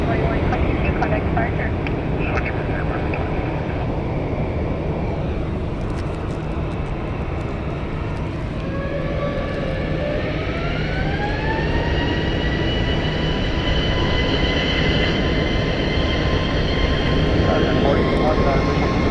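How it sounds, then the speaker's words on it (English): An American Airlines airliner departs Phoenix Sky Harbor Airport as a loud, continuous jet roar, with engine tones climbing in pitch midway and holding steady as the plane pulls away. "The plane that just departed was American Airlines 2122 going to San Diego."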